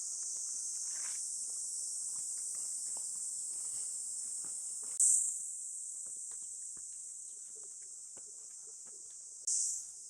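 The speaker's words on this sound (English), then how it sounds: "the sound of crickets" Crickets chirp in a steady, high continuous drone, with occasional faint ticks and rustles in a quiet outdoor setting in Kanazawa, Japan, in summer.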